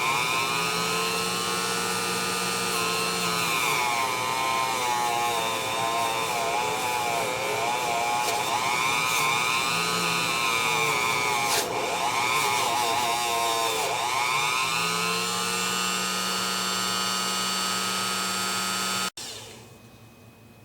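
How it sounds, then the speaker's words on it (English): A Dremel rotary tool with a buffing wheel polishes tarnished Gibson ES-335 guitar saddles, a continuous high motor whine close by whose pitch dips and rises under load, stopping abruptly near the end. "then I take them over to the Dremel tool. It's got the buffing wheel on it. I just buff them up here."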